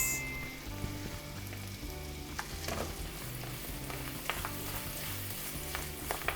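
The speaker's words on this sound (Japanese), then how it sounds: "でバターが入ったら鍋肌に醤油です。" Soy sauce sizzles continuously against the side of a hot pan with melted butter, occasional clicks and light scrapes of a utensil, steady and close, no voices.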